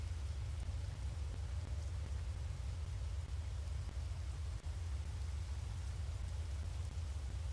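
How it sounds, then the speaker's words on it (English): Thunderstorm rain in the survival video game Space Engineers, a steady dense wash of rainfall with a heavy low rumble underneath, constant and unbroken throughout with no voices. "Unless this is a thunderstorm."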